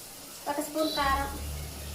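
Spices for egg biryani frying in a pan, a soft, brief sizzle heard quietly under a voice that speaks over it.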